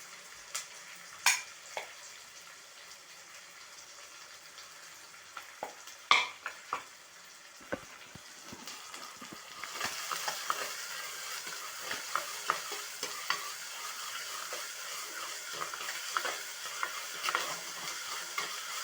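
Ginger garlic paste fries in a pan for a crab soup, with scattered scraping and tapping of a spoon at first, then a steady, faint sizzle swelling as the paste cooks, heard close with no talk.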